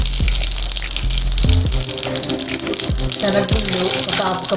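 Mustard seeds and cumin sizzle in hot oil in a pan while brinjal fry is being made: a loud, steady hiss with crackling, and a voice talks over part of it.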